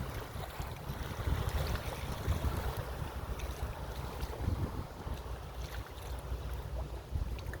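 Engine drone of a boat on coastal water, a steady low rumble mixed with wind noise and lapping waves, moderately loud and continuous with no talking.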